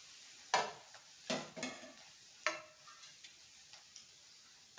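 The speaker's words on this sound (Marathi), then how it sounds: "तर हे आता मिक्स करून घ्या." Dry poha flakes stirred and roasted in a kadhai, a few separate scraping, rustling strokes spread out over a quiet background, close and moderately loud with no talking.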